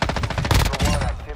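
Rapid automatic gunfire in the Call of Duty DMZ video game, a dense burst of loud close shots filling the whole short moment.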